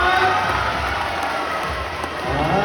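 An audience roars and cheers for a boxer at a live match, a dense continuous wash of crowd noise that stays loud and even throughout.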